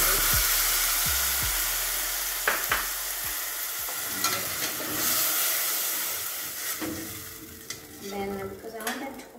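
Tomatoes go into a pan for minji stew, answered by a steady close sizzle and hiss with scraping stirring strokes and a few sharp knocks early on, fading to a softer fry.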